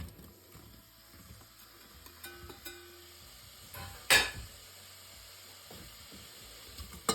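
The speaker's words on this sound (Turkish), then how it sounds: "Önce soğanlarımızı kavuruyoruz." Low, quiet sizzle of onions frying in oil in a pot, with occasional stirring clinks and a brief louder scrape partway through.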